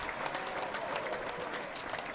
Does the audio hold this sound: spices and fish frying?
no